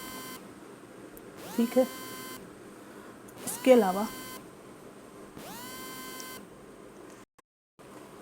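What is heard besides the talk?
phone ringing or beeping during recording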